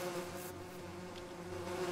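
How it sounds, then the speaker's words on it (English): A swarm of bees drones in the Lego Lord of the Rings video game, a steady close buzzing hum that holds without pause, loud and alone. "a swarm of bees"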